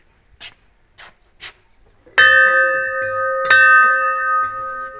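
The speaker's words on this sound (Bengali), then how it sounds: "এখানে ঘন্টাও আছে" A few soft knocks, then a Shiva temple bell is struck twice, each strike ringing out loud and close with long, shimmering sustained tones.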